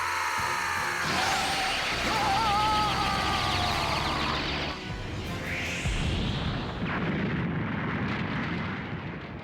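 A Big Bang Attack from the Dragon Ball Z Kakarot video game charges with a rising, sparkling energy whine, then erupts into a loud roaring blast that rumbles and fades over several seconds.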